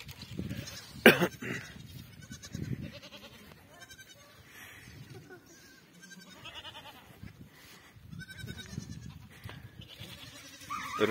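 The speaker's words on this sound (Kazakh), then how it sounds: "Mana eshikda laqtarni bugun birinchi marta ko'kka joyiga chiqardik." Young goat kids let out for the first time onto green pasture bleat repeatedly outdoors, a loud cry near the start and more calls scattered through, amid general farmyard commotion.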